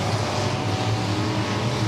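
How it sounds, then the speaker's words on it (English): Late model race cars roar around Humboldt Speedway during a 2025 World of Outlaws Late Model Series event, a loud, continuous engine drone filling the whole stretch with no talking. "Bryson Medina in the X16 zebra stripe car"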